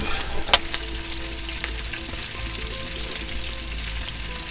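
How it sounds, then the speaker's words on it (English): Four sliced garlic cloves gently frying in a pan, a close, steady soft sizzle throughout with a brief utensil clink near the start. "Then add 4 sliced cloves of garlic, and gently cook it so it doesn't burn."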